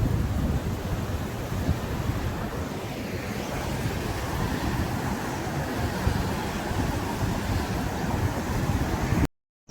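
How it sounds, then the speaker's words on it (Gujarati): Steady, heavy roar of water released from the Mahisagar dam rushing into the river, broadband and continuous with wind-like rumble, loud and close throughout before cutting out at the end. "ખાલી થોડું છોડ્યું પણ બહુ પાણી જાય."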